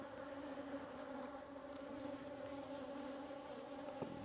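Honey bees swarm around open production hives during an inspection, a steady, dense buzzing hum that holds at close range throughout, with no talking.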